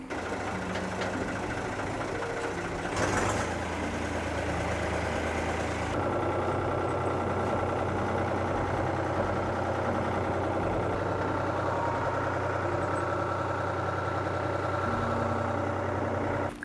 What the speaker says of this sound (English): But maybe I can drive the tractor.